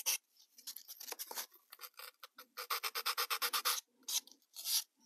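Sandpaper rubs rapidly against the edges of small model bricks for a Calico mining town diorama, a close, dry rasping in quick repeated strokes with brief pauses, no talk.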